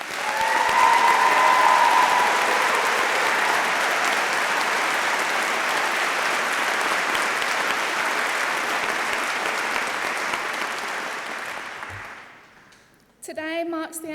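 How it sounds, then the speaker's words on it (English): A warm round of audience applause for the musicians at a university graduation ceremony, a dense, loud wash of clapping that holds steady, fades out near the end, then gives way to a voice speaking. "Please join me in giving them a warm round of applause."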